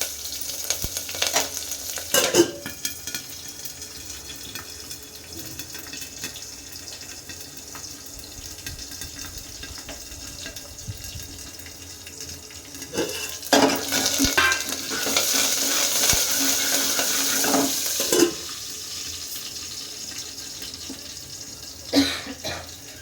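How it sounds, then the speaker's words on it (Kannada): Chopped onion and curry leaves frying in a pan for a radish buttermilk sambar, with a soft continuous sizzle and occasional stirring and clinks, louder toward the middle. "ನೋಡಿ ಈರುಳ್ಳಿ ಕೂಡ ಫ್ರೈ ಆಗ್ತಾಯಿದೆ."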